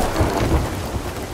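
A storm rumbles in the pirate game Sea of Thieves, low thunder rolling under steady rain for a short continuous stretch, fairly loud and without voices.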